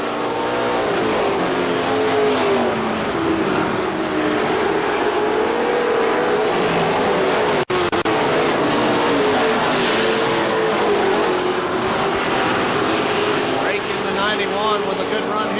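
Race cars battling side by side at KilKare Speedway, engines roaring loud and steady with shifting pitch as the pack circles, an announcer talking continuously over the noise.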